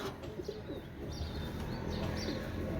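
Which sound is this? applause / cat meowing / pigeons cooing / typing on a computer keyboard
pigeons cooing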